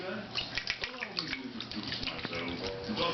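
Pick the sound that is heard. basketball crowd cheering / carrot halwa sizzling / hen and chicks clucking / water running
water running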